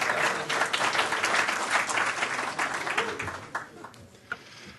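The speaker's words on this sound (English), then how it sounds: "Applause will help always." Audience applause fills the hall with dense clapping for several seconds, then thins to a few scattered claps and fades out.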